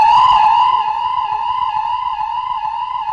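An emergency vehicle siren, from a fire engine or ambulance, sounds as a loud, steady, sustained electronic tone held alone for a few seconds, slightly brighter at the start, with no voices.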